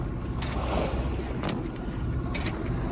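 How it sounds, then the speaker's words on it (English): Sailboat motoring under engine on a windless, flat-calm sea during a solo passage across The Wash, a steady low engine drone with water rushing along the hull and occasional wind buffets on the microphone. "There's not a breath of wind, so we're motoring."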